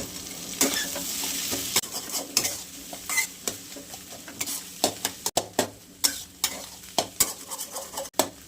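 Egg fried rice is stirred and broken up in a hot pan, giving repeated scraping and tapping strokes of a spatula over a steady sizzle, close and fairly loud, with no talking.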